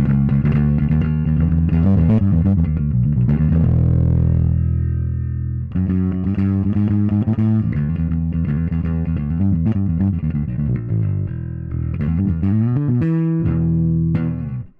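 A distorted electric guitar runs through the Nembrini Audio Blackice Beta Gamma amp plugin, playing loud, continuous riffs and chugging chords with brief pauses between phrases and no talking.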